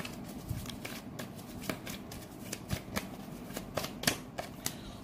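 Tarot cards are shuffled and drawn close by, quiet riffling and sharp flicking snaps in an irregular rhythm, with no talking.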